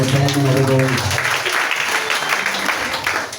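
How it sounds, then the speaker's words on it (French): A church congregation bursts into sustained, dense applause that fills the room loudly. A voice is heard briefly at the start. "Acclame Jésus-Christ Nazareth"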